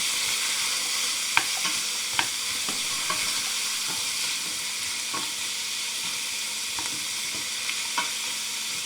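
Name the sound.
onions and meat frying in a pan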